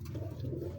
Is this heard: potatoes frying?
no